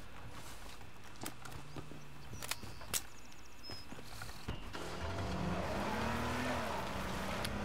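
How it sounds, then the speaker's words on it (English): Car in the battle royale video game H1Z1 pulling up and stopping, an engine rumble and tire noise swelling near the end over faint background sounds and scattered clicks. "Heard him stop his car over here."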